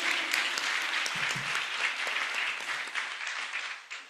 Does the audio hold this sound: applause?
yes